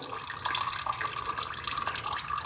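Engine oil drains from a tractor in a steady, faint trickling stream that splashes continuously with no pauses.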